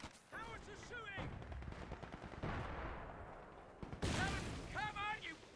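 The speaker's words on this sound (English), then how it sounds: "Howitzers shooting." Howitzer artillery fire in a Company of Heroes 2 4v4 battle, with repeated booms and rattling gunfire mixed through a dense battlefield din while voices shout and talk over it.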